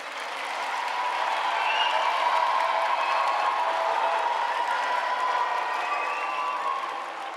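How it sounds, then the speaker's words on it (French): An audience at a film screening applauds a mountain guide and the film's director, who led an expedition up Mont Blanc. The clapping is steady and even throughout, a dense, moderately loud wash with no voices on top. "Vous pouvez les applaudir d'être là."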